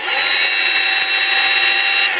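A Kobalt 6-inch variable-speed cordless random orbital polisher runs at its lowest speed setting, giving a steady, loud, high-pitched motor whine that holds even throughout.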